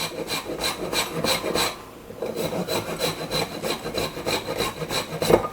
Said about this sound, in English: So I'm going to grate my ginger on the microplane.